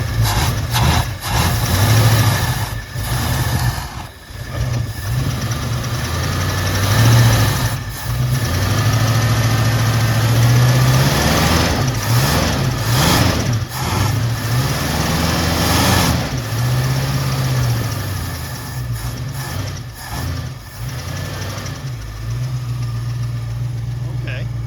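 A 1973 Ford Mustang Fastback, revived after 30 years of rotting in a yard, with its engine running loud and close, idling roughly and revving up and down repeatedly while people talk over it.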